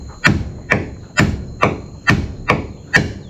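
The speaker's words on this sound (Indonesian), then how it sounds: "Itu Bang Komri mulai memaku. Keras ya" Hammer blows drive nails into very hard wood while building the timber frame of a farm hut kitchen, seven evenly spaced, loud, close thuds with sharp ringing attacks, roughly two per second, with no talk.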